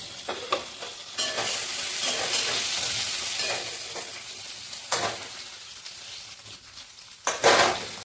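Onion fries with a pinch of salt in mustard oil, along with whole cumin and green chilli, giving a continuous hiss. Scraping stirs and spoon knocks against the pan are heard close up.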